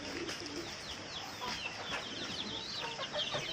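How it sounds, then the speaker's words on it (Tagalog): Two-month-old chicks peck and feed, giving soft overlapping chirps and clucks with faint cooing close by, a busy, moderately quiet flock chatter. "mga 2 months old natin na sisiw. Ito sila."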